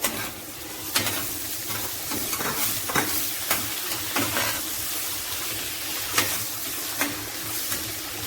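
Tomato goes into a pan of frying onion and sizzles loudly and steadily up close, with sharp stirring clicks and scrapes at irregular intervals.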